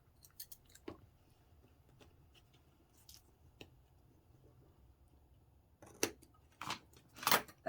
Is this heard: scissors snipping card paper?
yes